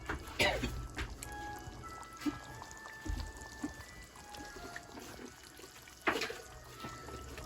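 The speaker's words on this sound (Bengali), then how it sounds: "সামান্য জল দেওয়ার পর" A little water is poured into a simmering brinjal curry for Hyderabadi bagara baingan, giving a brief splashing trickle and a couple of soft clatters against a steady low kitchen hum.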